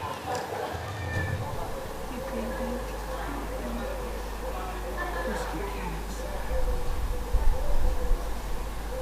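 A cat meows in a garden where magpie parents have been calling, the cries fairly close and repeated over steady outdoor background while someone narrates throughout.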